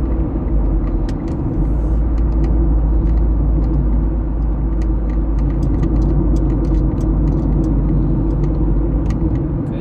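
Interior road noise of a car cruising on a highway toward Dubai Mall: steady low rumble and engine drone, constant throughout, with small clicks and ticks overhead and no talking.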